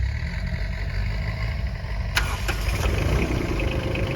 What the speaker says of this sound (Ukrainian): чуєте, наскільки м'яка робота янмарівського двигуна